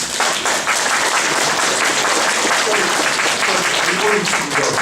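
A town hall meeting audience on airplane noise claps loudly and continuously, a dense wash of applause mixed with some voices.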